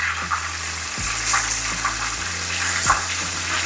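Red snapper frying in hot grease gives a steady close sizzle and crackle, with faint clicks and a low hum underneath, no voices.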